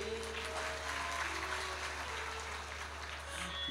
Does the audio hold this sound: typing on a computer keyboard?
no